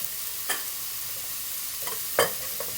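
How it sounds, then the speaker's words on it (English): Chicken pieces fry in a stir fry with a constant soft sizzle, broken by a few brief scraping stirs against the pan. "The chicken's cooking away there."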